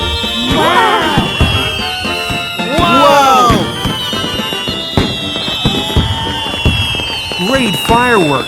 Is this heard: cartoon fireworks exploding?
yes